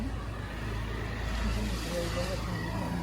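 A car arrives at a house gate with a steady low engine rumble, close and continuous, while people talk over it.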